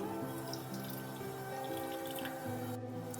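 Water poured into a bowl of cauliflower with a little salt, a steady close trickle and splash with faint dripping.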